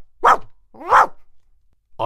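Two loud, close, bark-like yelps, voiced by a person imitating a dog during a storytelling reading, with a third starting at the very end.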